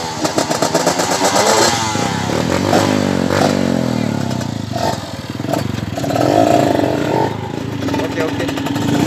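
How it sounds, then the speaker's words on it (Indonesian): A motorcycle on an outdoor adventure ride in Soppeng, South Sulawesi, revs its engine in rising and falling pulses with some rattling clatter, close by and loud, while people talk over it. "Motor andalannya."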